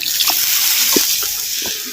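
Water pours steadily into a pan of black gram curry cooking in coconut oil, a continuous close splashing stream with a few brief gurgles and no voices.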